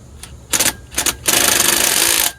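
Bolt on a Ford F-150 air conditioning compressor being loosened, with a few short bursts of rapid metallic ratchet clicking followed by a longer continuous ratcheting run, loud and close.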